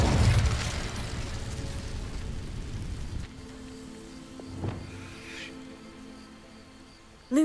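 Incendio fire spell in Hogwarts Legacy igniting dry vines: a loud rushing whoosh of flame bursting up at once, crackling for about three seconds before dropping to a quieter burning hum with a faint pop.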